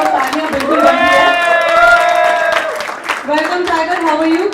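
A crowd at a film poster launch event claps and cheers loudly for a celebrity guest, with whoops and shouting voices rising over steady applause across the whole stretch.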